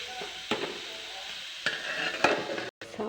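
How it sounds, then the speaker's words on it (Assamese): A tomato and soybean dish sizzles in a frying pan while a utensil stirs it, giving a steady quiet fry broken by a few distinct scraping strokes, with a brief dropout near the end. "দেখা হৈছে এনেকৈ মই লৰাই দিম।"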